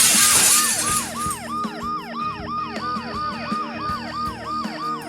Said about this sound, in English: In spite of the noise I made breaking the glass and the ambulance's deafening siren